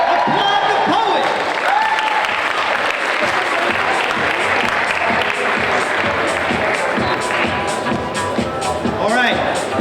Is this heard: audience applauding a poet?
yes